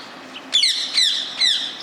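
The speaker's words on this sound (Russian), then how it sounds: "попугай кричит." Wild rose-ringed parakeets give three loud, harsh squawks outdoors, each call a sharp descending screech spaced about half a second apart, with no talking.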